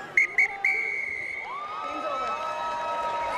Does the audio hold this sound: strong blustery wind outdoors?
no